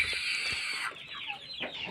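Free-range village chickens on a poultry farm cluck in short, close calls against a steady high hiss.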